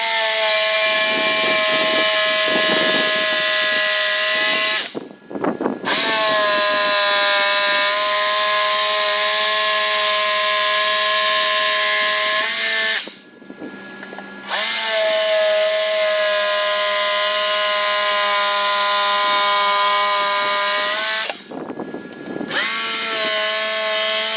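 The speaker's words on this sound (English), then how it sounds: "Now it's time for the jigsaw." A jigsaw cutting a panel for a TV and picture wall, loud and close, running in three long continuous bursts with short pauses between them.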